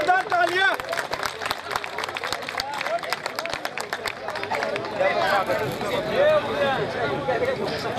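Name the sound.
loud applause at a community meeting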